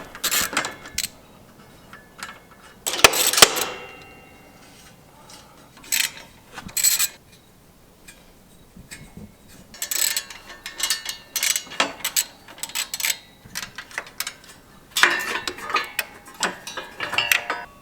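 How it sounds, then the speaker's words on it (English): Wrench loosening the four oil filter bolts on a mower: scattered metallic clicks and ratcheting bursts, close and fairly loud, in uneven clusters with quiet gaps between them. "for a minute of wrenching"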